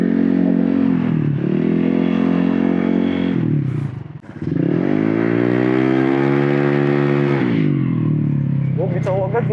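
A Honda ADV 160 scooter with a faulty torque drive bearing accelerates hard on a test ride, its engine revving up loud and close, easing off briefly mid-run, then climbing again.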